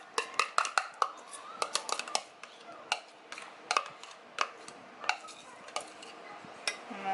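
Garlic spread being mixed in a bowl with a utensil, a series of light, irregular clinks and scrapes against the bowl, close by and fairly quiet.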